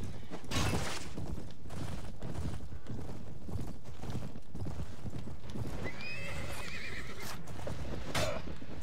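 Horses in the Mount & Blade Warband game gallop with rapid, rhythmic hoof clip-clops throughout, and a loud neigh rises near the end amid clashing battle noise, close and busy.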